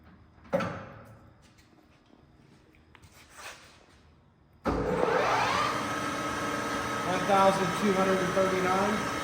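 An Acer Dynamic 1760G lathe starts after a couple of faint knocks, jumping to a loud, steady mechanical whir that holds with a slight rising tone; a voice speaks briefly over it.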